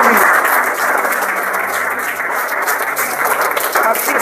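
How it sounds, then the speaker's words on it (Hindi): Loud, dense applause from an audience at a DXN branch product meeting in Jhajjar, sustained evenly throughout with a steady wash of many hands clapping close by. "तो एक बार जोरदार तालियां हो जाए"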